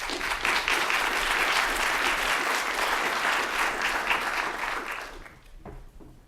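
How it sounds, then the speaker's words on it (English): Conference audience applauding to welcome a speaker at a wildlife trafficking event, sustained loud clapping from a sizable crowd that tapers off and fades out near the end. "with your applause, welcome Grace Gabriel."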